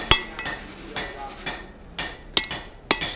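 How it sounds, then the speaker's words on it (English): A hammer strikes hot steel on an anvil during forging, a series of sharp, ringing metallic blows at irregular intervals, close and loud with brief decays between strikes. "So let's get it hot and start hammering away"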